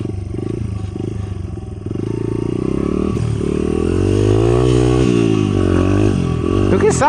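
Honda XR70 and XR100 dirt bikes being ridden, a steady, loud engine drone that rises and falls in pitch with throttle, heard close with voices talking over it.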